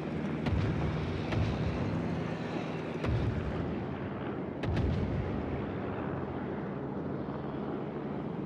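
Naval guns firing in the World of Warships video game, with repeated booming artillery shots over a constant rumble of sea and engine noise and no voices.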